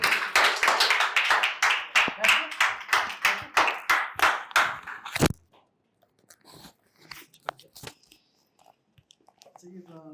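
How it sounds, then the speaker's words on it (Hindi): Clapping at a comedy stage show as a performer is introduced: a few seconds of regular, fairly close hand claps, then it stops abruptly and only faint scattered sounds and brief voices remain. "एक बार जोरदार तालियां हो जाए"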